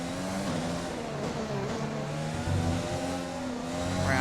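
A Formula 1 car engine in the F1 2020 racing game at the Mexican Grand Prix, a steady high-pitched whine with rising and falling harmonics as the throttle is fed in, loud and continuous throughout.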